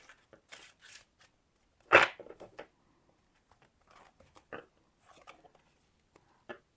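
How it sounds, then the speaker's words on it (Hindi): Tarot cards being shuffled by hand, a series of short papery riffles and flicks with one sharp louder slap, close up and quiet between bursts, no talking. "so let's shuffle the cards for Pisces, cancer, Scorpio"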